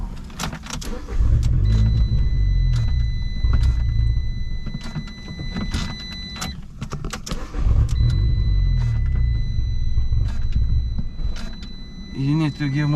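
A Fiat 500 Abarth engine runs roughly on vodka instead of gasoline, close and loud with uneven revving swells and sputters, under people talking.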